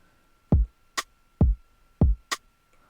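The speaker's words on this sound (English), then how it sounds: "So without it, this is just the snare." In an Afrobeat drum pattern, a kick thumps under a solo snare, the two alternating in a steady loop. Each hit is crisp and close, with a faint constant tone behind them.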